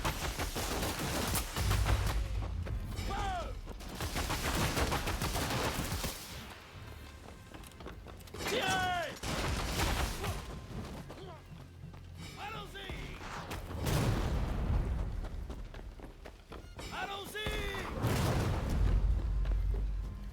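Repeated bursts of gunfire and heavy cannon booms from a Rise of the Ronin battle, with loud rolling blasts throughout and a voice speaking intermittently over the noise.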